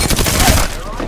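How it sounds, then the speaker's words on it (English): A dense burst of gunfire from the video game Apex Legends comes as a short cluster of overlapping cracks with one heavier impact, loud and close, then falls quickly away. "I think I got shot at."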